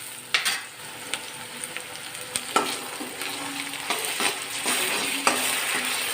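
Ginger-garlic paste sizzles steadily in hot oil in a pan for an Assamese fish curry with brinjal, with repeated scraping stirs and light clinks of a spatula against the pan, close and fairly loud, no talking.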